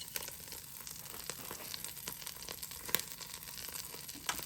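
Ube pancake batter sizzles on a Power XL griddle with a steady, faint crackle and occasional small pops, heard alone without talk.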